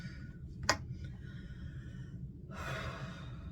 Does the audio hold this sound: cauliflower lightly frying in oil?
no